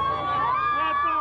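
Roaring crowd of about 6,000 volleyball fans at the PalaFlorio arena in Bari, a steady loud wash of cheering and shouting with high whoops and voices calling out across the whole stretch.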